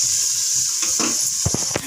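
Potatoes and onions frying in a pan in a home kitchen, a steady close sizzle with a few sharp stirring scrapes and clicks near the end.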